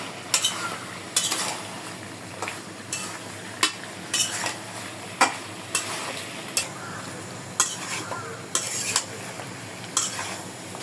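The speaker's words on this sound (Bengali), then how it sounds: "ভালোভাবে মিশিয়ে দেবো" A spoon stirs hilsa fish curry with ridge gourd in a sizzling pan, making regular scraping strokes roughly every second over a constant frying hiss.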